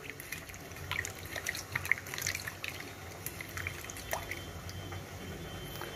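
Hands squeeze and knead soaked tamarind in a bowl of water for a fish curry, producing close, soft wet squelches, drips and splashes in an irregular, continuous rhythm.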